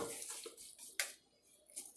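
Spaghetti stir-fried in a pan with garlic, chili and starchy pasta water, giving soft sizzling hiss broken by sharp metallic clinks of utensils against the pan, close and moderate in level.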